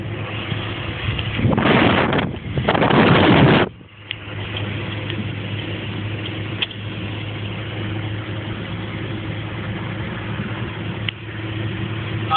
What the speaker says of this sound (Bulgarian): Ауди 80 изпреварва Рено 19 на газ.